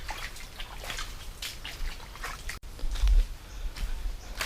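Water flowing and trickling outdoors along a muddy rural path, a faint continuous dribbling wash with a slightly louder burst midway, no talk.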